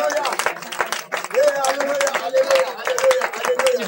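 A church congregation claps along while voices acclaim and sing loudly, the rhythmic clapping close and steady beneath continuous crowd voices.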